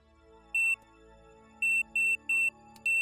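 A low-charge alarm sounds inside a spacecraft cockpit in Kerbal Space Program: a sharp, high electronic beep repeating in short bursts of uneven spacing over a low steady hum, with no talking.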